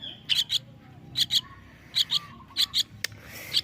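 A Javanese myna chick at eleven days old, calling while being hand-fed, gives repeated shrill paired chirps in short bursts, close and clear over a low background murmur.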